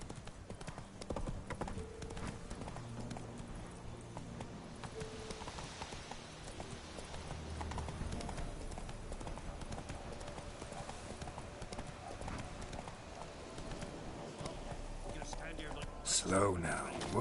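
Roach the horse gallops in The Witcher 3: Wild Hunt, a steady rhythmic clip-clop of hooves running throughout, close and fairly quiet, with soft game ambience underneath.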